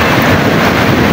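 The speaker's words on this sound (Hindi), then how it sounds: "समंदर के पानी की लहरें आ रही हैं।" Sea waves rolling in on the Karachi shore, a loud, dense wash of surf mixed with heavy wind buffeting the microphone, steady throughout with no speech.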